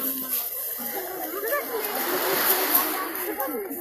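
Sea waves splash and wash onto a beach, with surging water that swells and recedes nearby. A voice and other speech come through over the water.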